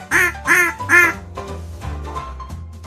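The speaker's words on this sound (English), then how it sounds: "It's a duck." Three quick duck quacks sound close together, loud and nasal, followed by soft background music.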